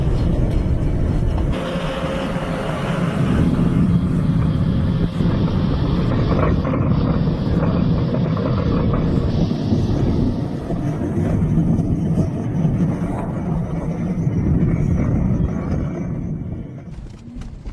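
A heavy 12-cylinder snowblower engine labours uphill on a snowy road, a deep, continuous rumble with grinding mechanical noise, loud and close, easing slightly near the end.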